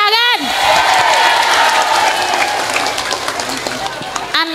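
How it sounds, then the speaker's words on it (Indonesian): An audience at an Islamic study gathering breaks into loud, dense clapping for about four seconds, with a voice heard briefly just before it starts and again as it ends. "Tepuk tangan."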